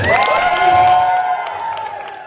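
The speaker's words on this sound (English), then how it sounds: "Why are you not cheering?" A crowd at a steampunk convention costume contest cheers and whoops in a short, loud burst that fades, with scattered clapping underneath.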